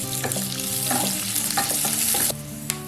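Long-sliced onion dropping into hot oil with mustard seeds, cumin and curry leaves, a loud close sizzle and crackle with spoon scrapes against the pan.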